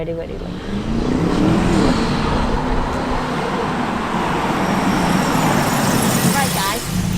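An Aston Martin DBX707 SUV launching in race start mode, its engine note rising as it accelerates hard and stays loud and close, with people talking over the engine.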